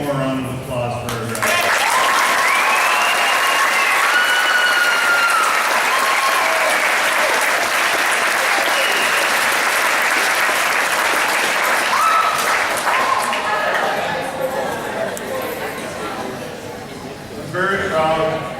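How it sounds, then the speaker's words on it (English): Sustained, loud applause from a large audience at an 8th grade graduation ceremony, swelling in quickly and holding steady for most of the clip before tapering off near the end, with voices and cheers mixed in. "Can we get one more round of applause for her?"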